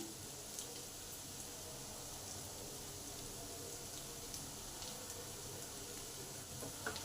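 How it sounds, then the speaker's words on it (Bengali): Potatoes sautéing with cumin, coriander and chili powder for an aloo chilli dish, a soft steady sizzle close by with occasional faint clicks of stirring, low and continuous. "এইগুলোকে দিয়ে তিন মিনিট ভালো করে আলুর সঙ্গে কষে নিলাম"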